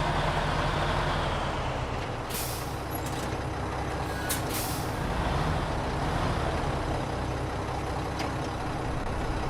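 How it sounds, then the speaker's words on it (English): A semi-trailer truck loaded with cargo rolls down a steep embankment in SnowRunner, its engine droning loudly and steadily, broken by brief sharp air-brake hisses. "I'm going to try and run down the steep embankment with a semi-trailer with cargo on it"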